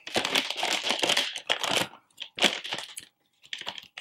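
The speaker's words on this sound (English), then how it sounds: "we're going to go ahead and unwrap the video card" New Nvidia GTX 660 video card being unwrapped from its packaging, with close, loud bursts of crinkling and tearing plastic in irregular clusters and short pauses between them.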